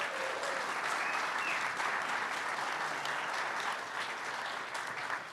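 An audience gives music supervisors a steady, even round of applause, a dense crowd of claps that holds level before easing slightly at the end.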